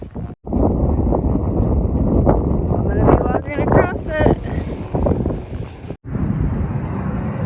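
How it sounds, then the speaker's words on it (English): Strong coastal wind on the Oregon Coast Trail buffets the microphone with loud, continuous roaring gusts, close and overwhelming, broken by a couple of brief drop-outs. "So windy."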